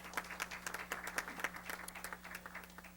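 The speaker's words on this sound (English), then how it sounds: "that's worth a round of applause" A board of education meeting audience applauds, a thin, fairly faint run of handclaps heard from a distance over a steady electrical hum.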